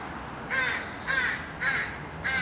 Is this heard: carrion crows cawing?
yes